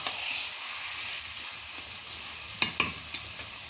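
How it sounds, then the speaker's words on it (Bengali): Food sizzles in a pan as salt and turmeric are stirred in for a Bengali dish of hilsa fish head with taro greens, a constant hiss with a few scraping stirs toward the end and no voices. "লবণ আর হলুদটা দিয়ে একটু মিশিয়ে নিলাম।"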